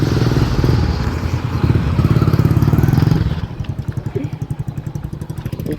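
A freshly serviced farm tractor engine arrives, chugging loudly nearby with a deep, rough, steady rumble that shifts into a pronounced rhythmic thudding beat in its second half.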